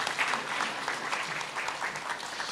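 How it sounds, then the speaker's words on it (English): Audience applause at a World Mental Health Day morning gathering, a steady dense clapping from a sizeable crowd that fills the whole stretch at an even level. "Let's get another round of applause."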